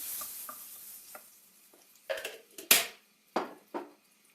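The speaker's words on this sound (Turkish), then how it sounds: "Yağımız kızdıktan sonrası hemen şöyle bir domates salçası ilave edelim." Tomato paste frying in hot oil for an egg pasta dish, with a soft sizzle under a few sharp clicking stirs and scrapes of a utensil against the pan, close and fairly quiet.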